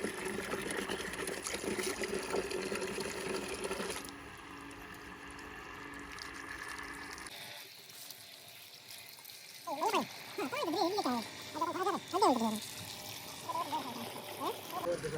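Water from a newly installed pump at a new house flows and splashes steadily, loudest in the first seconds and then quieter, while people talk over the later part.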